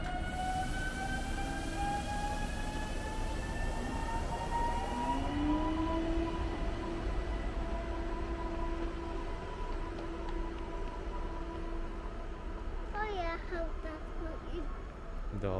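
A train pulling out of Łódź Kaliska station, a steady rumble under gliding tonal whines from the motors as it gathers speed, with squeals near the end and someone speaking nearby.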